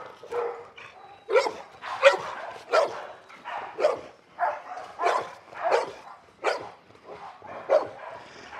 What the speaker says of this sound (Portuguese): mesmo que o cão esteja latindo